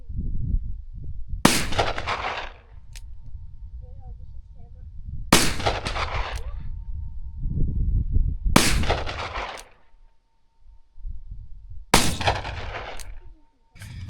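Four heavy single gunshots from a .454 Casull revolver crack out at a slow, even pace outdoors, each a sharp loud blast with a brief echoing tail, and quiet rustling between shots.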